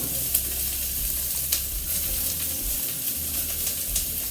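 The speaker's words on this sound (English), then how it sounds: "I'll just put the onions in here" Onions sizzle and fry in a hot pan while pasta and meatballs are being cooked, a steady broadband crackle running throughout with a few sharper pops, no talking.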